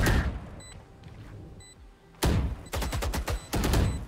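Gunfire in the video game Valorant: a single sharp shot after a quieter stretch, then several rapid loud bursts of automatic fire, close and punchy, with faint game sounds before.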